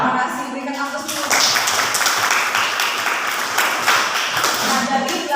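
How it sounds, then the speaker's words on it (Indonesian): A classroom audience in an Indonesian history lesson applauds steadily for several seconds, with dense, sustained clapping from many hands that carries through to the end and a voice faintly under it. "Berikan aplaus dulu."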